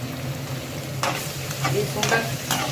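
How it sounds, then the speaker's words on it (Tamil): Turkey berries tempering in hot oil in a frying pan give a steady sizzle, broken by a few sharp stirring scrapes and spatters. "சுண்டைக்காய் போட்டு நல்லா தாளிச்சுக்கணும்"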